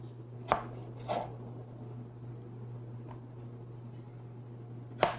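A kitchen knife chopping food during home cooking, a few separate sharp chops spaced about half a second to several seconds apart, over a steady low hum, with no talking.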